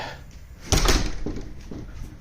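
Front door of a house swinging open: a solid thump of the latch and door body, then a short trailing rustle and creak, close and fairly loud against a quiet room.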